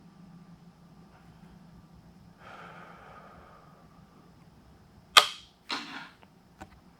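A rifle fired at a silhouette target: one sharp, loud crack, followed moments later by a second sharp report and a fainter click. Soft breathing and a low hum come before the shots.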